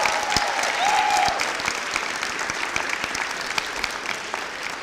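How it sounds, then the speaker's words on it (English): Audience applause for a high school musical at a senior awards ceremony, a steady roomful of clapping holding at a moderate level throughout, with a faint voice or tone briefly audible early on. "Let's give them a round of applause"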